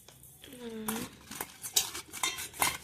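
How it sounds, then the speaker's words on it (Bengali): Fish is worked by hand with yogurt and salt in a village kitchen, giving soft, wet squelching and slapping bursts at close range. A short tonal sweep comes early, and the mixing continues unevenly without a steady rhythm. "লবণটা ভালো করে মাখাই নি।"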